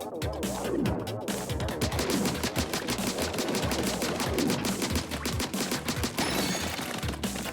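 Continuous shooting in the Splatoon 3 video game, a dense, rapid stream of loud, wet-sounding ink shots with sweeping tones, sustained steadily throughout.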